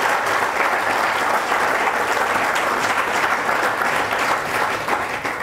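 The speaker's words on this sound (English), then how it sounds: "give them a nice big round of applause" Loud, sustained applause fills a football showcase banquet hall, dense and unbroken clapping from a large seated audience honoring a young quarterback.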